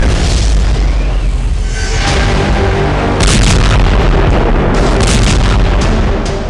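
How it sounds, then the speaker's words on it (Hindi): A huge hypersonic missile blast over Tel Aviv rumbles as a sustained, loud, low boom with rolling bursts and crackling through the whole stretch, swelling sharply again near the middle. "यमन की हाइपरसोनिक मिसाइल तेल अवीव पर ऐसी गिरी कि धमाका व्हाइट हाउस में भी सुना गया।"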